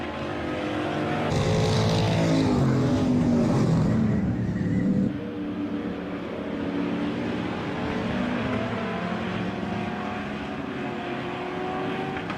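Race cars roar around the oval at Emo Speedway as the pack battles for the lead, a loud continuous engine drone that swells as cars pass close, then settles into a steady, slightly more distant growl.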